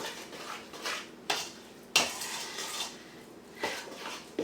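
Unsweetened coconut is stirred into a snowball mixture in a bowl, giving soft scraping and stirring with a few sharp spoon clinks against the bowl, close by and quiet.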